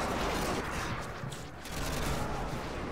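Sustained SCAR rifle gunfire in Modern Warfare 2, a dense continuous fusillade of shots running the full length with a brief dip midway, loud and close.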